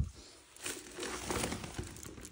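A plastic bag from an IKEA shopping trip is crinkled and rustled while being opened, giving close, irregular crackling bursts that grow busier after a quiet start.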